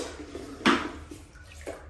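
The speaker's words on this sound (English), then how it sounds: "I guess I will take some of the water out." Water is scooped out of a toilet bowl, a quiet slosh followed by one sharp splash and a few soft trickles and drips nearby.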